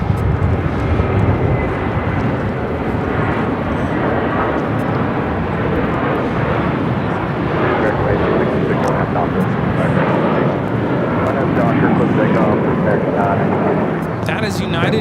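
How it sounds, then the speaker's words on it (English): A United Airlines Boeing 757-200 takes off at LAX, its jet engines roaring loud and steady throughout, with people talking over the roar. "That is United Airlines 1488 taking off to the skies to Newark on the 757-200."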